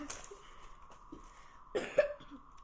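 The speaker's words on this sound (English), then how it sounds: "Sorry, I just have a little cough." A short, close cough bursts out once near the middle over quiet room tone, with a few faint soft noises around it.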